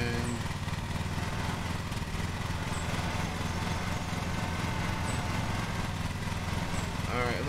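Lawn mower engine in the Lawn Mowing Simulator video game runs at a steady, high-revving drone, continuous and fairly loud throughout with no pauses.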